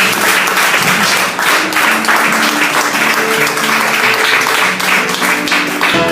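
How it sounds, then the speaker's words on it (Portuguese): Dense, loud congregational applause during a church service, sustained clapping throughout with a brief dip and faint voices and keyboard tones underneath. "Se você recebe, aplauda o Senhor"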